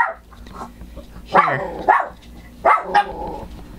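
Puppies barking at someone standing outside a house, with several sharp yelping barks in quick pairs, close and loud, while a person speaks briefly at the start.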